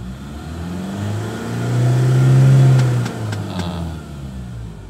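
A car engine revs up to about 4000 rpm and holds briefly before easing back toward idle, a steady, close, mid-pitched drone with no talking over it.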